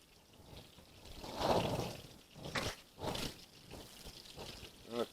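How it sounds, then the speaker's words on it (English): Heavy cream poured into a pot while cooking chicken fettuccine Alfredo makes a soft liquid glug and trickle, close and modest in volume, followed by a few faint splashes and drips. "I need 2 cups of heavy cream. So let me pour that off."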